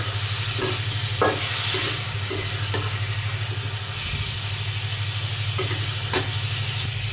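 Cauliflower fries in oil in a pan, giving a continuous close sizzle and hiss with occasional stirring scrapes, over a steady low hum; nobody talks.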